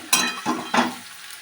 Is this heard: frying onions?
yes